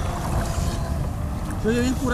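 A Shockwave 36 RC boat's propeller churns through water close by, a steady rushing whir under wind noise, with a voice briefly heard near the end.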